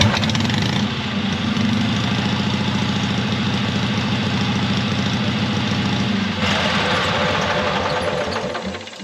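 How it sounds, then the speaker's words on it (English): An Onan backup generator engine running without its muffler, a loud, steady, throbbing idle with knocking pulses close by, the tone shifting slightly near the end. "I just wanted to try another start up, see how good it cranked now."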